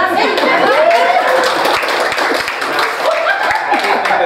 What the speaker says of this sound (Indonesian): Beri tepuk tangan dong buat 12.